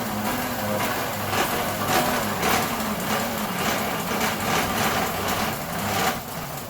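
A car engine idles with its drive belt spinning, making a steady mechanical hum and whir at an even level, close and continuous, with no talking.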